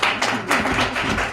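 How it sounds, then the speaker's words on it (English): Audience at a customer service convention applauds, a dense, steady wash of many hands clapping close by with no talk over it. "Please, let's give a round of applause, please."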